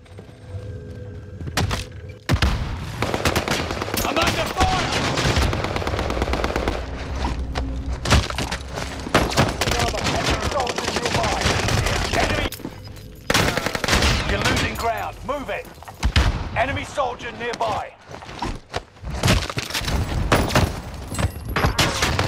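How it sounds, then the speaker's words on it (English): Call of Duty Vanguard and Warzone gunfire: dense bursts of automatic shots and single cracks, loud and close, broken by brief pauses and thuds, with voices talking intermittently over the firefight. "You're shooting at me!"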